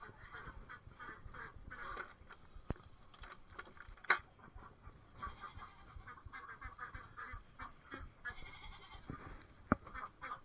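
Goats bleat on a small farm with ducks and geese nearby, a busy mix of overlapping animal calls and honks over steady background rustle, with a couple of sharp knocks.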